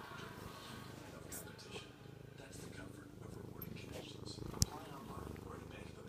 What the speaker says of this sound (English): Hold on, you can hear him purr.